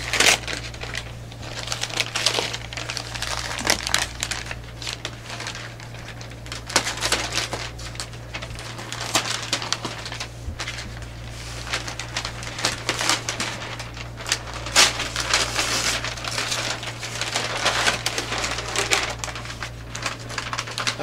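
A wrapped artwork package is opened, with scattered crinkling, rustling and tearing of wrapping material over a steady low hum, at moderate volume and with no talking.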